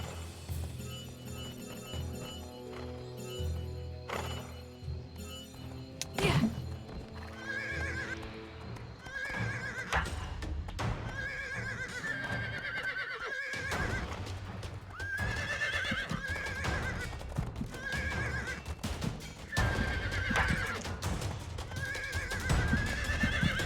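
A horse neighs and whinnies repeatedly in the game Riders of Icarus while being tamed, with clip-clopping hooves and game effects running steadily underneath.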